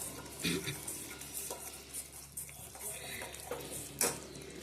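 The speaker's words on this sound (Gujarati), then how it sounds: "આને ચલાવતું જ રહેવાનું, તેલ ઉપર આવે ને ત્યાં સુધી" Spoon stirring onion, chilli and curd chutney in an oily pan, soft scraping strokes and light clinks at an irregular rhythm over a faint sizzle, close and quiet.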